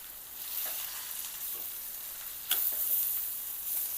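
Amaranth leaves (tandulja) stir-fried in a pan with dried chili, a soft steady sizzle with a few light spatula scrapes and one sharper clink, faint and close.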